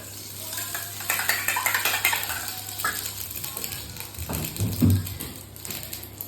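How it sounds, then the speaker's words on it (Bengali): Egg for an omelette sizzles in a home kitchen pan, with a spatula scraping and clinking against the pan in irregular bursts and a low steady hum underneath. "এখানে আমার মা রান্না করছে,"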